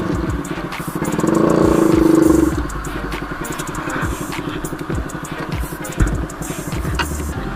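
A Bajaj Pulsar NS 200 motorcycle fitted with an SC Project full-system exhaust rides past loudly, with a strong surge of engine roar early on, then a steady rumble and a sharp pop near the end.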